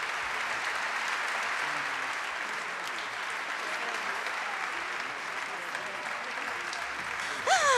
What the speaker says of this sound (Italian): vi invito ad accogliere con un caloroso applauso